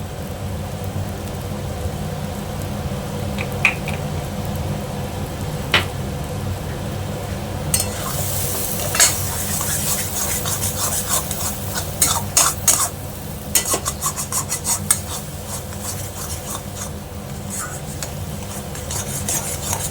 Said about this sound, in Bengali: এইভাবে কন্টিনিউ নেড়ে যেতে হবে